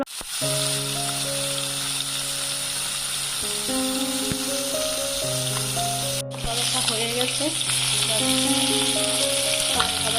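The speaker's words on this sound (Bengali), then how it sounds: "এখানে করছি এসে আলু পটল ভাজা" Potatoes and pointed gourd fry in a home kitchen pan, giving a steady broadband sizzle throughout, partly masked by loud tonal music playing over it.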